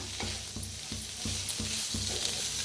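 Cumin, sesame and coriander seeds dry roasting in a pan, with a steady soft crackle and a regular scraping stir repeating about every third of a second, close and alone.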